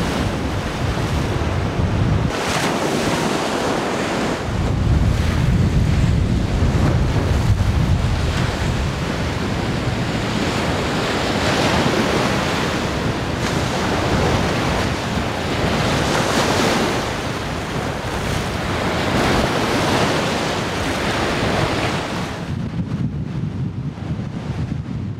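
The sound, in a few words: strong wind on the coast while cycle touring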